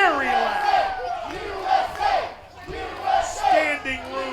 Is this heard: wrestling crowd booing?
yes